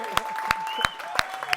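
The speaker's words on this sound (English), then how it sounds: "So let's give Scott a big round of applause." Clapping for a team member during a car dealership sales meeting comes as evenly spaced, sharp claps in a steady rhythm over a faint tonal background.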